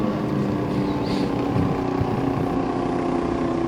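Nitrous-fed KTM 500 LC4 drag racing motorcycle at a drag strip, a loud, steady engine roar with wind buffeting throughout.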